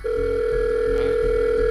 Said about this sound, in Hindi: उसने फिर से अपने फोन से जॉन को फोन मिलाया